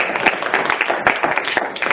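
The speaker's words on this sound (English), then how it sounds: "let's give a round of applause for Ms." Applause from an audience welcoming a speaker to a talk on legal assumptions, a dense steady patter of many hands clapping close by, with a few sharper individual claps standing out.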